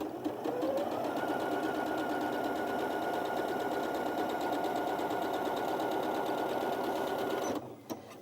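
A Janome Memory Craft 9480QCP sewing machine stitches steadily for about seven and a half seconds, a close, continuous whirring buzz that stops abruptly near the end.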